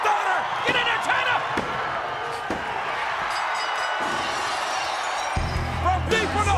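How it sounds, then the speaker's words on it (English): A Stone Cold Stunner in a WWF wrestling ring lands with several sharp slams, heard under a commentator's excited talk and the noise of a large arena crowd. "And there's a stunner. Stone Cold Stunner."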